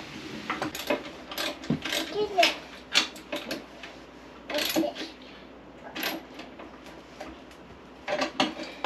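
A socket wrench ratchets in bursts of quick clicks while tightening bolts on a Vevor chicken plucker, with voices talking nearby in between.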